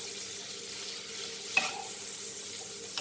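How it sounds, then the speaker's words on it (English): Broccoli stir-frying in butter with cumin and pepper, giving a soft, steady sizzle throughout and a single brief utensil tap near the middle, with no talking. "Broccoli, stir fry this."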